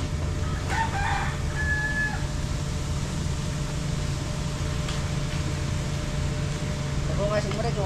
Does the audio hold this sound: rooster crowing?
yes